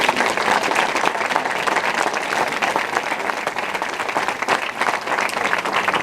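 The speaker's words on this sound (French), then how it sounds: "c'est qu'on les applaudit bien fort" Dense audience applause at the inauguration of a new market in Saint-Sever, a steady wash of many hands clapping at once, loud and sustained throughout without pause.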